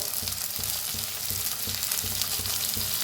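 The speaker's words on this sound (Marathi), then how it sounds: "आता ह्याच्यातच टमाटर बी भाजून घेऊया." Small desi tomatoes roast in a pan, with a loud, continuous frying sizzle and a regular rhythm of stirring scrapes.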